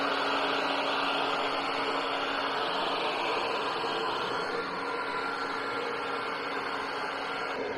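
A heat gun blowing steadily along the edges of a vehicle wrap on a Landcruiser 79 Series, a loud continuous whooshing fan hiss with a motor hum, unchanging throughout.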